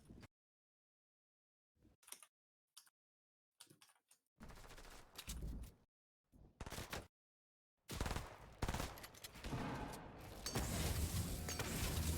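Gunfire in a video game shootout comes in short scattered bursts separated by silences, then turns into a longer, denser stretch of shooting toward the end.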